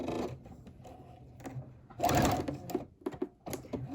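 A domestic sewing machine stitches a COVID-19 mask with a filter in short bursts of close, fast mechanical whirring. Quiet pauses and handling clicks fall between the runs.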